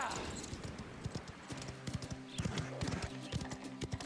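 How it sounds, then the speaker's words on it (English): Horse hooves in the video game Mafia: The Old Country clatter rhythmically on cobblestones, a fast steady clip-clop close by, with background noise and a faint voice. "I love that noise of horseshoes on cobblestone."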